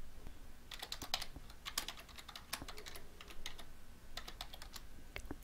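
Soft, fast key clicks on a computer keyboard as a citation is typed, coming in quick bursts with short pauses, quiet and close with no voices.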